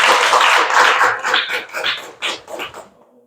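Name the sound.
audience applause for the speaker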